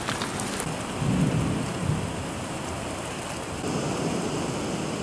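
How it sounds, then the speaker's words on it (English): Heavy rain roars steadily in a thunderstorm as a cold front moves in, with low rumbling thunder swelling underneath, loud and close with no voices. "Now we're starting to get a good old-fashioned storm."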